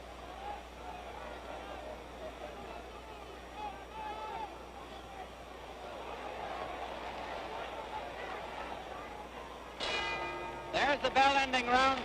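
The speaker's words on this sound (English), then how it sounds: "There's the bell ending round 3" A boxing bell rings out over a noisy arena crowd to end round 3 of the 1965 Floyd Patterson vs George Chuvalo fight. Sharp, repeated clangs follow a long stretch of crowd roar.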